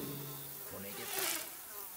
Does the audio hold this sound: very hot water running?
no